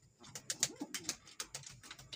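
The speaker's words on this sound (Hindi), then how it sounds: "देखें फुल मस्ती के कबूतर हैं" Multani pigeons coo softly at a pigeon sale in Multan, a close, rhythmic run of low throaty calls repeating through the short stretch.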